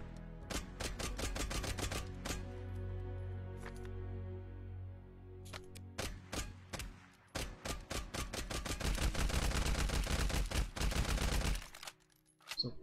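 Gunfire in the mobile shooter Lost Light Mobile: sharp single shots at first, then rapid, dense automatic bursts building to a loud sustained volley near the end, close and punchy.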